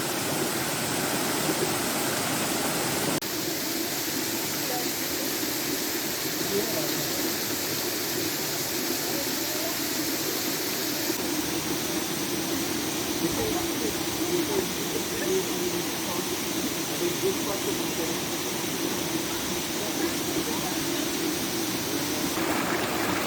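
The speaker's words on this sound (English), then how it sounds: "So we got our first view of the falls." Le Saut des Trois Cornes waterfall in Guadeloupe, a steady, broad rushing roar of falling water that continues unbroken throughout, close and loud, with no speech over it.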